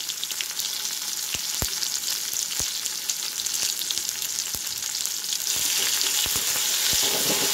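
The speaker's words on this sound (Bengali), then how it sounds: "মুসুর ডালে শুধু রসুন ফোড়ন দিলেও ভালো লাগে খেতে। তো দিয়ে একটু নাড়াচাড়া করবো" Masoor dal with a garlic tempering and bits of tomato and onion fries in a pan, a constant sizzle broken by sharp, irregular scrapes and knocks of a spoon stirring close by, with no voices.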